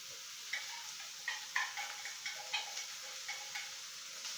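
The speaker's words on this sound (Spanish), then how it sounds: "Una vez ya refrita la cebolla y el pimiento, echamos el atún." Tuna dropped into a pan of already sautéed onion and pepper, sizzling softly at a steady low level with faint scattered crackles and stirring clicks, quiet and alone without talk.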